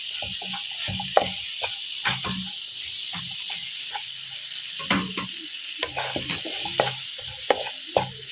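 Diced mango with turmeric frying in a pan for a Kerala mango mappas, a steady close sizzle broken by frequent scraping stirs and clinks of the spoon against the pan, with no voices.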